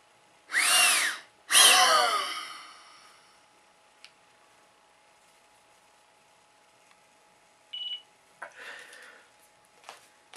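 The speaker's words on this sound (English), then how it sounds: "Did you hear the beep? That means it's been 6 seconds from the start of the test" An SDI Astra 300 spirometer gives a single short, clear beep marking the end of a test, coming after two loud rushing bursts of breath and a few faint clicks in an otherwise quiet room.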